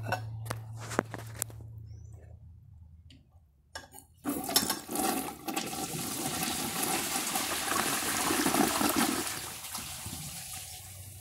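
A 2009 Glacier Bay toilet with its original flapper and flush valve flushes loudly, a sharp handle clack followed by a long, rushing surge of water draining and refilling the tank, close up with no talking.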